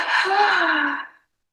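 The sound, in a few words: breathing exercise, three short inhalations and one exhalation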